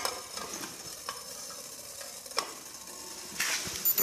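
Water coming to a boil in a pot over a homemade alcohol-burning stove, giving a steady bubbling sizzle with a few sharp ticks and pops, swelling louder near the end.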